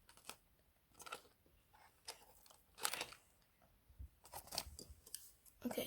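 Close snips of scissors cutting packaging tape on a Rubik's Orbit box, a handful of crisp, irregular cuts mixed with rustling and crinkling, fairly quiet.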